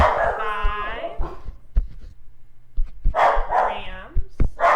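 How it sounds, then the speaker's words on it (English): Several dogs barking excitedly in the background, sharp repeated barks and yelps in bursts with gaps between, fairly close and loud. "The dogs are going crazy in the background."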